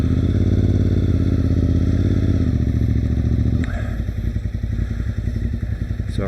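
Motorcycle engines rumble loud and close on a road into Port Dover, a steady heavy throb that shifts midway into a choppier, uneven idle-like chatter.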